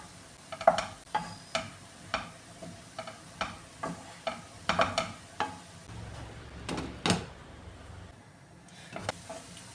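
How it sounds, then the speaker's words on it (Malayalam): Spoon stirring papaya thoran in a pan over the flame, a steady series of scraping strokes with a faint sizzle between them, close and alone. "ഇടയ്ക്ക് തുറന്ന് നോക്കി ഒന്ന് ഇളക്കി കൊടുക്കണേ, അല്ലെങ്കിൽ ഈ തോരനെ അടിക്ക് പിടിക്കാനിടയുണ്ട്."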